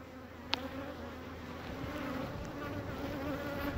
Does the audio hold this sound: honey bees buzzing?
yes